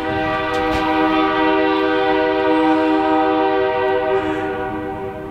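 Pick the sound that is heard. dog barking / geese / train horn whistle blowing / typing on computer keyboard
train horn whistle blowing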